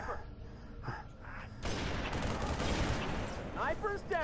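Sniper gunfire in the video game Halo 3: ODST, a sudden loud burst of shots and blast noise after a quiet start, with a voice heard briefly before it.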